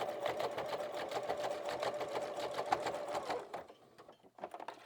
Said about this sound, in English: So I'm just going to finish off with a blanket stitch